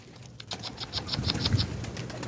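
Rapid wing flaps from a Mardin pigeon, a run of quick soft beats in a burst, with faint outdoor background noise.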